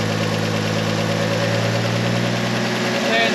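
A 1953 Chevrolet engine runs loud and close with a steady, rough mechanical drone, rising slightly near the end as it is revved.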